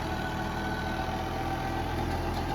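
A New Holland tractor running with its PTO engaged drives a rotavator, giving a constant low droning engine hum with steady vibration and no change in pitch, close and unbroken throughout.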